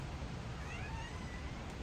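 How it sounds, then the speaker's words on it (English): A house cat meows indoors over a steady low background hum, the calls faint and thin rather than close and loud, with no talk in the clip. "you hear my cat?"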